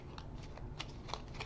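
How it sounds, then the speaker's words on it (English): A deck of playing cards is shuffled during a tabletop quest card game, giving a steady papery riffle of soft flicks close by and quiet, with no voices. "and we're going to shuffle."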